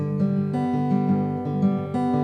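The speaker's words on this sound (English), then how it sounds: "Travis picking is a very well-known finger picking pattern" Acoustic guitar fingerpicked in a Travis picking pattern, alternating bass notes under a treble melody line, played steadily and clearly with no voice over it.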